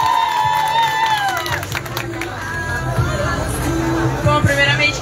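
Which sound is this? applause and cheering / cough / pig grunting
applause and cheering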